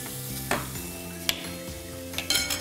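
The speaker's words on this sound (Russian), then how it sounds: "Я уже сниму сковородку с луком и беконом." Onion and bacon sizzle steadily in a frying pan, a close, continuous crackle broken by a few sharp stirring scrapes and clicks of the pan.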